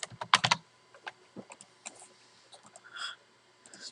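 Computer keyboard typing while entering button text in a Visual Basic .NET program: a quick burst of loud clacks near the start, then scattered lighter keystrokes spread over the rest, close and dry with no talk.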